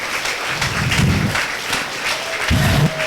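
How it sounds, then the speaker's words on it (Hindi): Applause bursts for a birthday wish at a health consultant gathering, a crowd clapping steadily for about three seconds with a few low voice-like murmurs in the mix. "जोरदार तालियां बजा करके उनको विश करें"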